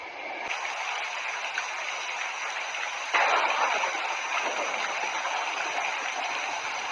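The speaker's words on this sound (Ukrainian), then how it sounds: "Шум дощу з грозою." Steady rain falls during a thunderstorm, a dense continuous hiss at moderate level that grows a little louder partway through, with no distinct thunderclap standing out.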